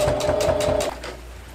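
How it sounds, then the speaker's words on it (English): A sewing machine stitching a dress runs in a fast, even chatter of needle strokes for under a second, then stops, leaving a faint hum of quiet room tone. "I also just learned that sewing machines have a little cutting thing right there."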